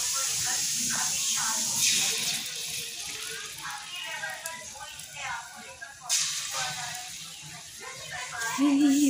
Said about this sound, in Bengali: কড়াইয়ে তেল দিয়ে দিলাম, এখন ভাজবো পকোড়া পেঁয়াজ আর বেসনের।